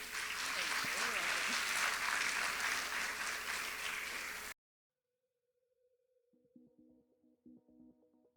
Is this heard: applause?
yes